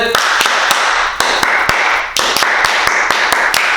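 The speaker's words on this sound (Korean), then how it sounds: "이렇게 녹음기를 쓸 때는 녹음기의 목소리와 카메라의 영상 싱크를 맞추기 위해서 박수를 쳐주고요" Sharp hand claps to sync a separate audio recorder with camera video during a YouTube shoot: a series of crisp, loud, close claps at irregular intervals, some people clapping together, over a steady room hiss.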